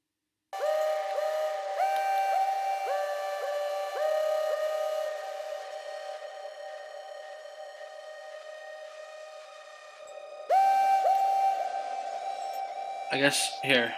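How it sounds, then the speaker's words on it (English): Synth notes pushed through a distortion effect with a redux (bitcrusher) placed before it, buzzy and harmonically rich, held steadily with a few note changes and a brief glitchy burst near the end. "check out the difference of sound if this redux is before the distortion"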